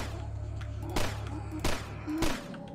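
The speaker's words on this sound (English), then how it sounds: "I'm just shooting through the wall." Three sharp gunshots from the video game Dusk, fired through a wall, each a loud broadband crack spaced about a second apart over a steady low in-game hum.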